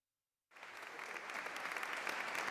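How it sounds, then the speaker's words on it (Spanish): Applause from an assembled audience paying tribute to Valladolid writer and journalist Máximo Regidor, beginning abruptly after a half-second of silence and holding as a dense, steady wash of clapping that swells slightly toward the end. "Con estos aplausos se ha rendido homenaje al escritor y periodista vallisoletano Máximo Regidor"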